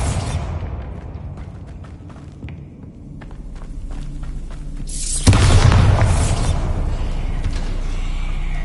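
Bombarda explosion spell cast in Hogwarts Legacy, a deep booming blast that swells suddenly and rumbles on, preceded by light footsteps and soft clicks, heard alone without talk.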